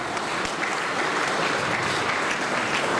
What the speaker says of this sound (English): Let's have a round of applause for our sir.